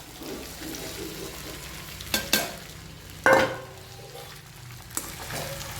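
Sabudana khichdi being stirred quickly in a hot pan, a steady close sizzle broken by a few sharp spoon scrapes against the pan and a light final tap.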